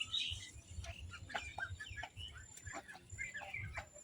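A mother duck standing with her ducklings gives repeated chirping and quacking calls, close and fairly busy, overlapping one another with no talking.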